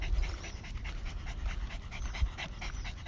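Dog panting steadily with quick rhythmic breaths close by, fairly loud and continuous, with a low rumble of movement underneath and no talking.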